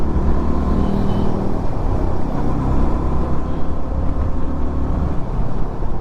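Dense road traffic moving through Bangalore, with motorcycle and car engines blending into a steady, loud, close rumble that holds without pause.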